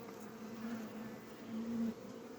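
Honey bees buzz steadily as the middle frame of three is lifted from the centre of a hive during a brood check, a close, continuous drone that swells twice.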